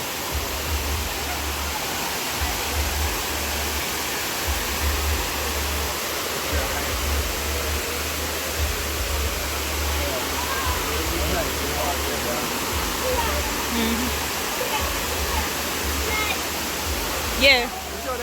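Dunn's River Falls in Jamaica roars as a steady, dense wash of rushing water, loud and close throughout, with a brief knock near the end.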